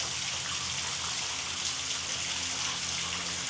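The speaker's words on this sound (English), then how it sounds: "the water comes out over there, runs across the land for a very short amount of time" Spring water running across open ground and pouring down into a hole at a historic park in Kentucky, a steady, close, broadband rush and gurgle with no talk.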